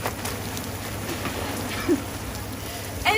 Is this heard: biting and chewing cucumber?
no